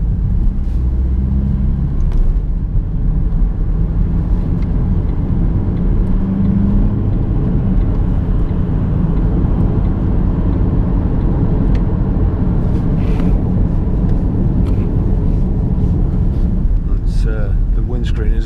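2007 Vauxhall Astra 1.3 CDTi 16v Life diesel hatchback accelerating on the road, a steady loud engine drone and road rumble heard from inside the cabin, with some wind buffeting toward the end.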